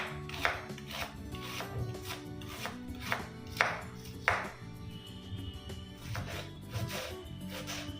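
A knife thinly slices onions for atukula upma, a poha dish, making a rapid series of close, crisp chops on a board with brief pauses between bursts.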